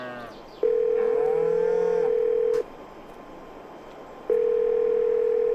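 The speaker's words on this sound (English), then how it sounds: "I'm going to ring Isaac at the shop. In fact, I'll do that right now." Telephone ringback tones in the farming game Farming Simulator 22, two long steady electronic beeps separated by a pause, loud and clear with no talking.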